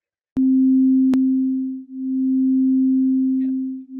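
Two steady sine tones sounding together near 262 Hz, producing a slow beat where the loudness swells and dips about every two seconds, a pure continuous hum with a couple of faint clicks.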